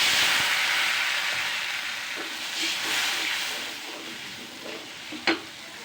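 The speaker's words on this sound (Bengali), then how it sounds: "একটু পানি দিয়ে দিই, মশলাটা পুড়ে যাবে।" Water added to frying spices after browned onions, bursting into a loud hissing sizzle that slowly fades, with a few light stirring clinks and one sharp knock near the end.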